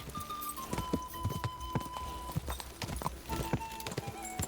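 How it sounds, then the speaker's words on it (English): Horse hooves clip-clop at a galloping pace in the medieval role-playing game Kingdom Come: Deliverance II, a steady run of close, sharp hoofbeats with a faint tonal game sound running underneath. "Tap it to spur the horse and speed up."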